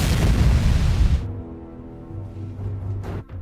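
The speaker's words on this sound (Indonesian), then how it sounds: "4 rudal mulai ditembakkan, tetapi hal itu sia-sia karena Kuratov dengan mudah menangkisnya" Missiles launched and exploding in an action film: a loud, dense roaring blast that cuts off abruptly, followed by a low humming drone and a couple of sharp whooshes near the end.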